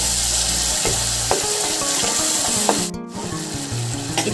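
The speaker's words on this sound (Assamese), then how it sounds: "এতিয়া মই গোটেইখিনি ভালকৈ ভাজি ল'ম" A spice and tomato paste mixture fries in a pan for a Kofta Curry, giving a steady loud sizzle with brief stirring scrapes and a short clatter near the end.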